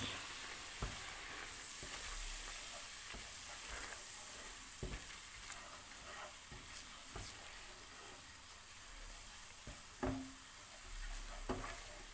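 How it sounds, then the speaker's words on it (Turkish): Flour roasts in melted fat in a pan for Turkish flour halva, a soft continuous sizzle broken by occasional spoon taps and scrapes against the pan, quiet and close. "bir su bardağı unumuzu ekliyoruz. Güzelce kavuruyoruz."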